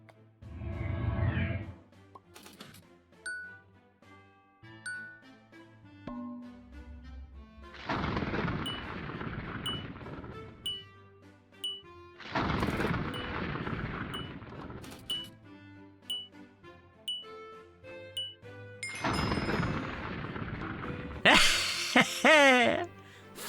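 Thunder in a Wynncraft quest arrives as several heavy rumbling cracks spaced through the scene, each burst loud and broad, with quieter musical tones and chimes between them and a short clinking flourish at the end.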